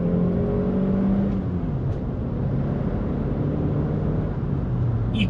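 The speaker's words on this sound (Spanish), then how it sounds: "segunda sobre 60 km/h, pisamos a fondo, carga y ahora despega." Saab 9-3 Viggen pulling hard at full throttle in second gear from about 60 km/h, a steady, loud engine drone with a rising tone heard from inside the car, no talking.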